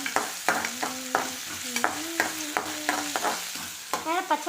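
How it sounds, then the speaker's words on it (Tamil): Chopped onions sautéing in oil while being stirred, with repeated scraping strokes of a utensil against the pan over a steady sizzle and no voices. "வெங்காயத்தை வந்து நல்லா பச்சை வாடை போகிற வரைக்கும் நல்லா எண்ணெய் ஊற்றி நல்லா வதக்கி எடுத்துக்கலாம்."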